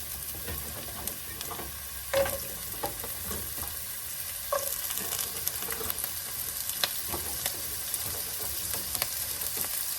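Carrots stir-frying in a pan with garlic, onion and ginger give a steady close sizzle with scattered stirring clinks and scrapes, no talking.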